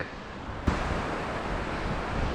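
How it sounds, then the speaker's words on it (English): Wind blowing across a UK beach during cod fishing, a steady broadband rush with a buffeting gust at the microphone, surf faintly mixed in, no voices. "That wind's picking up a bit now."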